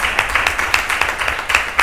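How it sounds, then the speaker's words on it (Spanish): Audience applause after a film-history talk: a brief burst of hand clapping from a small crowd, dense and steady with a few sharper individual claps standing out. "vamos a dar un aplauso a Ángeles por su conocimiento."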